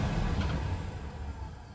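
A car's ventilation blower fan runs on its highest setting, giving a steady, close, broadband whoosh with a low rumble that holds even throughout, with no voices.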